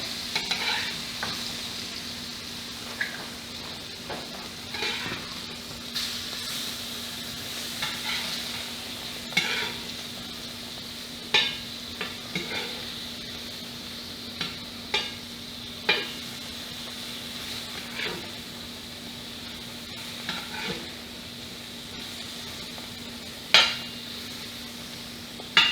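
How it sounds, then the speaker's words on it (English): Homemade halloumi cheese sizzles steadily in a hot pan, a constant frying hiss under scattered clicks and scrapes of a utensil moving the pieces, with no talk. "Well, we have our halloumi cheese fried up."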